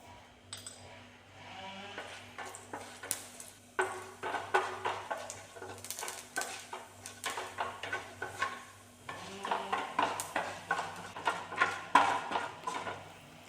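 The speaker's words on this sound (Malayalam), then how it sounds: "എണ്ണ ചൂടായി വന്നിട്ടുണ്ട് നമുക്ക് ഉഴുന്ന് പരിപ്പിട്ട് കൊടുക്കാം" Urad dal fries in hot oil in a pan, a soft steady sizzle under repeated metallic scrapes and clinks of stirring, close and fairly quiet.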